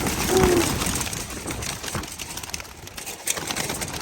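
Racing pigeons released outdoors at midday, a flurry of wings and brief coos near the start fading into scattered rustling and ambient noise as the flock moves off.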